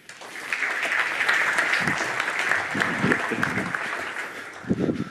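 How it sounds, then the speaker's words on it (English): An audience at a SIX Group corporate talk applauds steadily for Andreas Iten, a technology innovation lead, with a full, even wash of clapping that fades slightly near the end while a few low voices stir beneath. "An applause for Andreas Iten."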